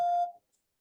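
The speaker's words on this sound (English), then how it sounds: "Please leave a message after the beep" A single short electronic voicemail beep, clear and steady, cutting off abruptly into silence.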